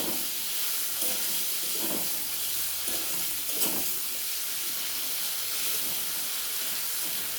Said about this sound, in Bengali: দিয়ে ভালো করে আগে আলুটা আমি একটু ভাজা ভাজা করে নেব